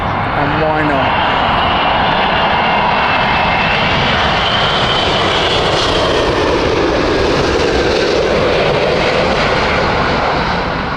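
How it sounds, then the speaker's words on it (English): An Airbus A380 at Heathrow in crosswinds gives off a loud, close, continuous engine roar with a deep rumble and a rising whine, and the sound stays at full strength throughout. "There she is. Always a crowd pleaser, the A380."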